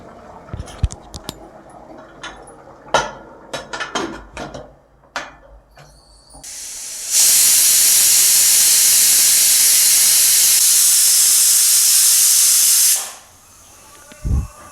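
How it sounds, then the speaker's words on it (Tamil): Sharp clatters and knocks give way to a loud, steady hiss of steam lasting about six seconds, like a pressure cooker whistle, then it cuts off abruptly. "மூணு விசில் வந்துருச்சு, ஆஃப் பண்ணிடலாம்."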